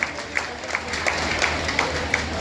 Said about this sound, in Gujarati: જોરદાર તાળીઓનો ગુંજારો